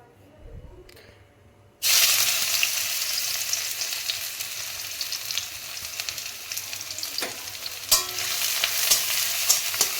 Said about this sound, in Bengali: রসুন লাল লাল করে ভাজা হয়ে গেছে